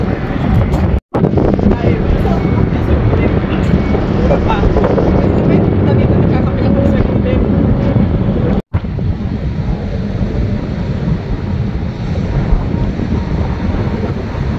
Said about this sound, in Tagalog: Tinatangay po ako ng hangin